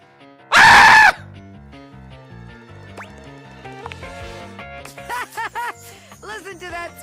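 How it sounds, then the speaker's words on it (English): A short, piercing scream from a character in the PC dating game Date Everything bursts out loud, followed by quieter game music and chirpy character sounds. "Listen to that scream!"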